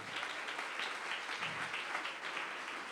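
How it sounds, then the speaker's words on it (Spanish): Applause from a church congregation keeps up as a steady, moderately loud wash of clapping, with no voices over it. "Fuerte ese aplauso al Señor de la gloria"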